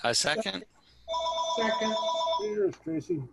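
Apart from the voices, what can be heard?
telephone ringing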